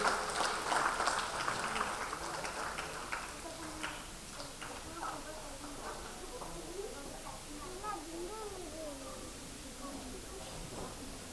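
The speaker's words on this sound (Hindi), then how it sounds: "श्री प्रकाश जी चंडालिया का स्वागत और सम्मान जोरदार तालियों से हम" Audience applause at a Kolkata Kala Mandir stage event greeting an honoured guest, dense clapping loudest at the start and slowly thinning, with a voice talking over it.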